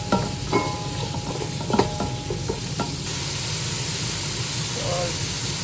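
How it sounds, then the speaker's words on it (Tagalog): Mushrooms are stir-fried with pepper and salt in a pan, giving a steady sizzle with a few scraping stirs early on, close and fairly loud throughout. "stir fry natin muna hanggang lumambot"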